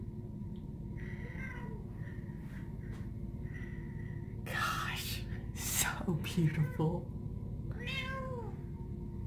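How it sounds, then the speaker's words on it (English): A cat meows several times, fairly close, amid quiet room noise, with a person speaking softly now and then. "Do you hear this cat? She follows me everywhere."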